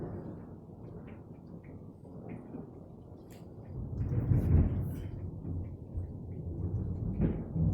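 Low, distant thunder from a storm that just flashed lightning rolls in and swells to a heavier rumble midway, faint and alone with no talking.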